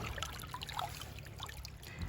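Creek water trickles and burbles softly along a North Carolina streambed, a faint, steady babble with small scattered splashes and no voices.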